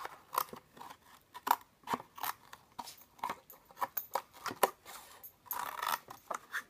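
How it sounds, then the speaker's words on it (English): Scissors snip along a drawn line while shaping a homemade doll-sized microwave, giving a steady run of close, crisp cuts in an uneven rhythm with no talking. "I'm just going to start just by cutting down so I can cut it on this line that I've drawn."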